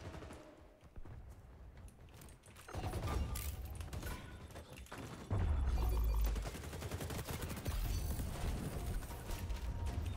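Gunfire in the shooter game XDefiant during a Domination match, bursts of rapid automatic shots crackling loudly through most of the stretch with heavy low thumps midway, no talking over it.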